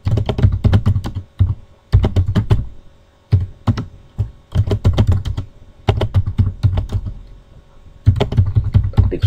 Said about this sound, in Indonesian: Ketik suratnya dulu.